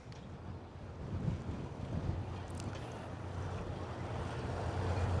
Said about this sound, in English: with the heavy winds